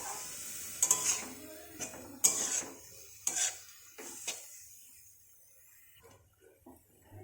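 Metal spoon scraping and stirring chira pulao with egg in a pan, a few separate scrapes and clinks over faint sizzling, close and fairly quiet, easing off toward the end.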